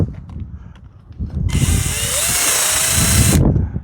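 A power drill runs steadily for about two seconds in a shed workshop, starting abruptly and cutting off sharply, with a high whine and a slight pitch dip midway, following faint scraping and handling noises.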